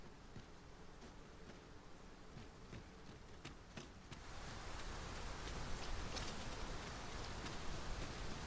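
Steady rain falling in Dragon's Dogma 2, a broad hiss over scattered drip ticks that grows a little louder and denser partway through, with no talk.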